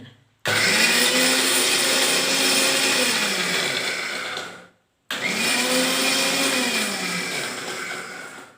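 A mixer grinder grinding onion, ginger and garlic whirs loudly in two long bursts separated by a brief pause, its motor pitch sagging slightly as each run goes on.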